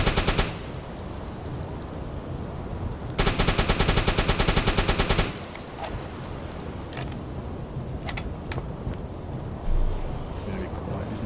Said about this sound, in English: We again are using high explosive ammo for machine gun.